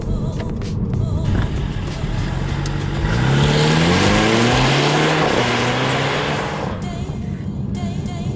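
A Mercedes C200 AMG Line with a 2-litre petrol engine revs up smoothly and climbs in pitch for several seconds before settling back, heard close and loud with no talking.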